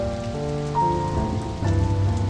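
Steady rain patters on a surface while sustained musical tones play over it.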